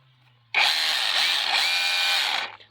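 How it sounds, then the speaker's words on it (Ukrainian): An AliExpress rotary hammer drill running in hammer mode starts abruptly, buzzes loudly and steadily for about two seconds with a harsh rattling hammer texture, then cuts off, no voices. "Зараз він працює як ударом, але часом в нього є маленький збой."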